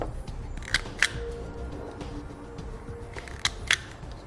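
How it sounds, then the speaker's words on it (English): Small cutters snip a gray wire with an orange stripe near a connector, then strip both ends: a few sharp, close clicks and snips in pairs, separated by quiet handling noise. "I'm going to move downstream of the connector just a bit, cut the wire in half, and strip both ends"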